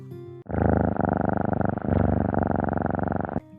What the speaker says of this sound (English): Kitty purr.